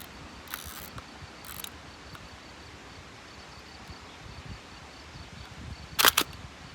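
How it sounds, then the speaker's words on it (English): Hasselblad 503CW medium-format camera with a leaf shutter and digital back: a few faint mechanical clicks early on, then a louder double click near the end, over quiet room hiss. "With these settings, the camera is actually ready to shoot with the leaf shutter."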